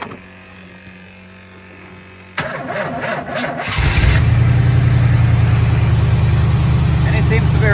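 An engine turns over briefly, catches with a jump in loudness, then settles into a steady, loud, close running drone that continues to the end.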